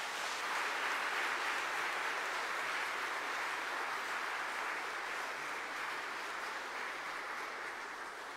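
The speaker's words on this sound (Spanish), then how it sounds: "Un fuerte aplauso." Church congregation applauding during a Sunday Mass, a steady wash of clapping that holds for the whole stretch at fairly loud level with no voices on top.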